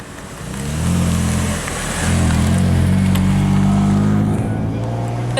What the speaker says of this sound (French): On a un premier convoi qui arrive là avec des véhicules allemands.